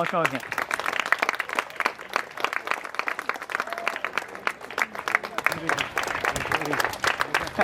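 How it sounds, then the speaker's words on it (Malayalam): An audience claps at the inauguration of a new open-air gymnasium at a school in Kottoor, dense steady applause from a nearby crowd that keeps going throughout, with voices audible beneath it. "കയ്യടി"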